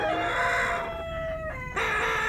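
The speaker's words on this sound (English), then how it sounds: "we are accosted by the sound of chickens" Chickens raise a loud racket in a dungeon chamber, with squawking, crowing-like calls that rise and break off abruptly, close and alone with no voices.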